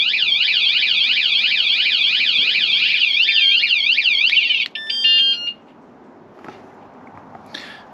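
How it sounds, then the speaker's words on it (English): A loud van alarm wails in a rapid warbling siren for several seconds, switches to a few electronic chirps, then falls quiet. "Let's set the alarm off"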